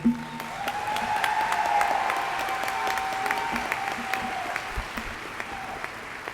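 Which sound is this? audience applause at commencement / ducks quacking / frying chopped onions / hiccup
audience applause at commencement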